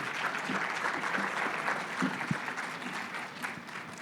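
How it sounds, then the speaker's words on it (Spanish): An audience claps warmly to welcome two speakers at a talk on overcoming a corruption scandal, a dense sustained ovation with a few sharper individual claps standing out. "pido un muy fuerte aplauso para recibir a Mariano y a Fabiana en este día"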